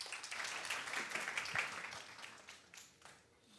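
Warm applause from the audience at an international symposium, soft and fairly distant clapping that swells briefly and then thins out and fades.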